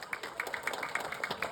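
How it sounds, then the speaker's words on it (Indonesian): Applause from the audience at an evening Islamic charity gathering and sermon, a steady patter of many hands clapping, moderately loud and continuous for a brief stretch with no speech over it. "Tepuk tangan."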